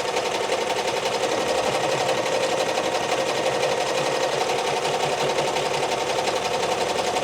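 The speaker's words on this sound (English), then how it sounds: "the Ricoma EM1010 is stitching up the design like it's supposed to be stitched up" A Ricoma EM1010 embroidery machine stitches a left chest logo, its needle hammering in a fast, even mechanical rhythm that runs steady and close throughout with no talk.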